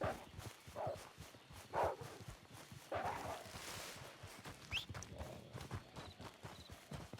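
Horse hooves clip-clop across the ground in the Red Dead video game, in an uneven walking rhythm of moderate loudness with a few soft background noises.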